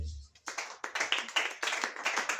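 A church congregation clapping in praise of Jesus, a brisk run of many hands slapping together in a steady rhythm after a short pause, moderately loud and filling the room.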